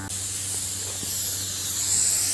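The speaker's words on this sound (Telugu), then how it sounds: "ఇప్పుడు కొంచెంసేపు నేను స్ప్రే చేస్తాను" A pesticide sprayer hisses continuously over a tomato crop in a field, a steady close-range spray that builds slightly in loudness, with no talking.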